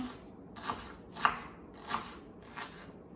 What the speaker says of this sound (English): I'm doing about 1/4 of a cup of onion, and I'm just gonna chop this up really nicely